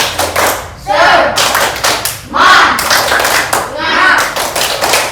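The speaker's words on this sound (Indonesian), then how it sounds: "Untuk menyemangati kita tepuk semangat dulu" Schoolchildren in a classroom perform the tepuk semangat clapping chant, rhythmic patterns of loud claps alternating with shouted chanting voices, close and lively.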